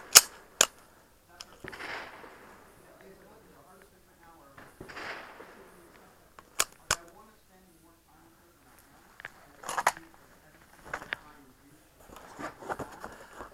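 Sharp gunshots crack out at shooting practice, a pair near the start, another pair mid-clip and more scattered later, each loud and abrupt, with people talking between shots.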